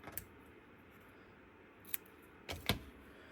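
Scissors snip a strip of tear and tape adhesive in half while making a ribbon tree card, two or three short crisp cuts in quiet surroundings.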